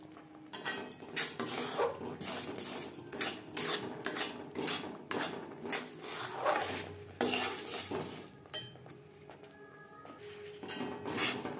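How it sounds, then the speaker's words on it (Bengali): A semolina sweet mixed with sugar syrup is stirred nonstop in a wok. Spoon strokes scrape and clatter against the metal in a loud, rapid, uneven rhythm close by. "এইভাবে অনবরত নাড়তে থাকবো যতক্ষণ না পর্যন্ত কড়াই থেকে ছেড়ে আসছে"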